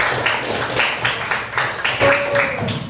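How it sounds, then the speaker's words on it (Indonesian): Children in a classroom clap their hands in quick, regular bursts, a steady patter of claps over a couple of seconds with a faint voice in the background. "Tepuk tangan."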